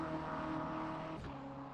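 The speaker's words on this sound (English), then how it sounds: "Before blasting its way up towards the Porsche car's 5th gear." Porsche race car on the Le Mans circuit in qualifying, engine roaring loud and close with a steady high drone, a brief shift-like dip near the end before the note carries on.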